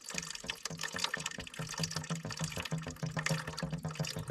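Water gurgles rapidly through a pipe after a burst, a fast bubbling, sloshing flow with a steady rhythmic pulse, close and fairly quiet.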